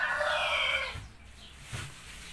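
Birds perched on a branch give a burst of clucking, rooster-like calls for about the first second, then fade to quiet background with one brief faint rustle.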